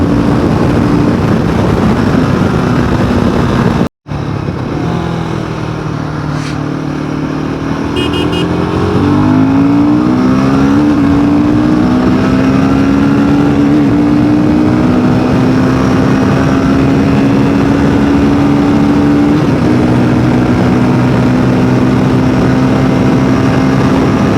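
A Royal Enfield Himalayan 450 motorcycle accelerates hard in first gear, its loud, close engine climbing steadily in pitch over a long pull after a brief cut near the start.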